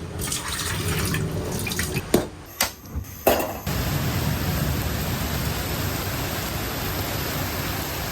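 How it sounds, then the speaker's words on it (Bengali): Rainwater pours into a container, a steady hiss of falling water with a few knocks and splashes early on, then a continuous close, loud stream. "একটু বৃষ্টির পানি জোগাড় করছি"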